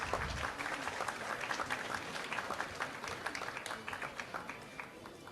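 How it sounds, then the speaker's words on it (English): An audience at a fashion-school graduation showcase applauds esteemed guests, sustained clapping that starts fuller and gradually thins into scattered, sharper claps. "a big round of applause for all our esteemed guests"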